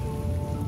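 Steady heavy rain pours in the game Heavy Rain, a dense, loud wash of rainfall while driving into the city, with no voices.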